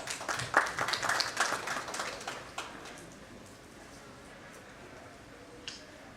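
Applause rises for a CEO being welcomed at an education leadership summit, scattered claps fairly loud for about two and a half seconds, then dying away into quiet room tone with a lone late clap.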